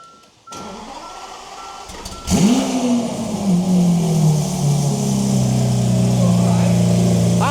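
A Lamborghini Aventador fitted with a home-built exhaust fires up after a quiet moment, settling into a loud, deep, steady idle close by while people talk over it.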